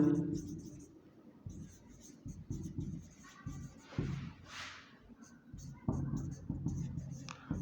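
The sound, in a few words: writing during a lecture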